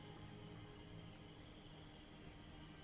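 Crickets chirp steadily through a still night, a soft continuous pulsing trill that stays even and faint across the whole stretch, with no voices.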